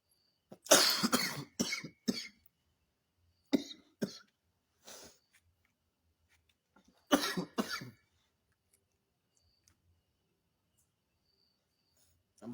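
A person with flu and fever coughing, several harsh close bursts in clusters separated by quiet pauses, alone without talk.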